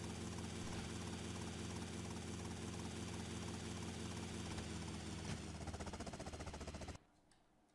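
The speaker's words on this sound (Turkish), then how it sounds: "Tamam, şu helikopteri şuraya bir indirelim." A helicopter in the video game GTA Vice City comes down to land, its rotor and engine drone loud and steady throughout, with dense rhythmic chop, before cutting out abruptly near the end to a faint residue.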